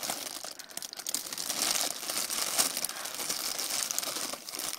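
Cute Sanrio plastic bag from a trade package being ripped open, a steady stretch of close, loud crinkling and crackling with rustling bursts and no talk.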